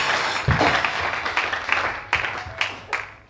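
A church congregation at a French-language Tuesday worship service bursts into applause for God, with loud clapping at the start that settles into uneven, thinner claps with a few sharp accents.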